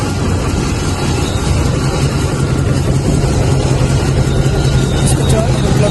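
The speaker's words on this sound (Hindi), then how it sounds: "अभी ये इंजन स्टार्ट है और मिसिंग कर" A Toyota 1RZ engine idles with a misfire from spark plugs not firing, producing a steady, close, loud low rumble that runs continuously throughout.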